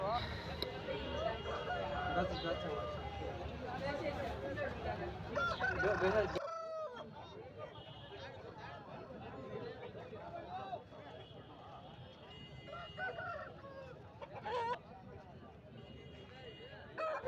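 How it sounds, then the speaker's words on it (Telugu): An erra nemili rooster crows loudly and repeatedly at a busy Rayachoti market, clucking fowl and general crowd noise around it, then the scene drops to quieter background chatter and occasional bird calls. "వీడియోలో కనిపిస్తుంది ఎర్రనెమిలి పుంజు"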